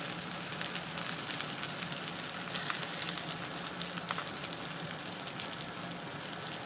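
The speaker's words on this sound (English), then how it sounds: "There, we have a pretty nice sear developing." Dry aged steak searing in a hot pan, a continuous bright sizzle with scattered pops and crackles, steady and close with no talk.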